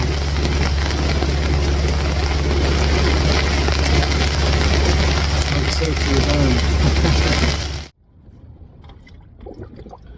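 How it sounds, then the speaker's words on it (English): Heavy rain pours loudly and steadily, a dense roar that cuts off abruptly near the end, leaving quieter indistinct sounds. "It's pouring rain right now."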